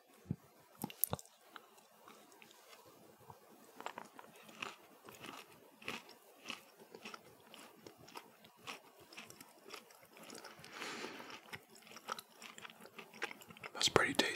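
A dark chocolate longhorn is bitten and chewed close to the mic, giving a run of crisp snaps and crunches followed by soft, wet chewing sounds.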